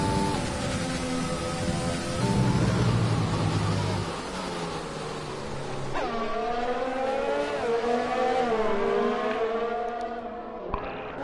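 Race cars in a sim racing game at the Austria round, engines loud and continuous as they come around the final corner, with rising and falling whine from gear changes and a brief sharp spike near the end.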